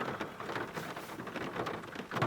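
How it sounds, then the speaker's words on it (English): Rain falls steadily during a wet photography outing on the Juan de Fuca coast, a soft continuous patter with scattered louder drops, no voices heard. "it's raining"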